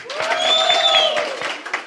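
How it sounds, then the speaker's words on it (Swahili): Crowd applauding at a Raila political rally in Kitengela, a short burst of dense clapping mixed with shouts and a drawn-out whistle or cheer, loud and continuous throughout. "Itupige makofi tena."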